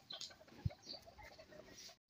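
Chickens cluck softly and steadily while being fed under a mango tree, with a few sharper calls, against a quiet outdoor background.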